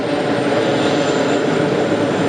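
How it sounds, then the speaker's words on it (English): Jet airliner engines spool up at JFK airport, a loud, continuous whine and roar holding steady and close with no break. "So it's gonna get mighty loud when these guys come on back and give it a push. Give their engines a start."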